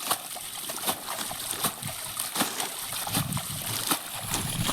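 Repeated water splashes and sloshing in the open at a prawn pond, fairly steady and close, with brief bursts of spray throughout.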